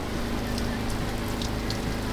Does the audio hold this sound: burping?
no